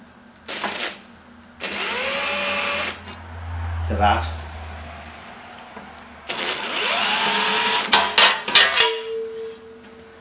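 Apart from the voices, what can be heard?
power drill drilling holes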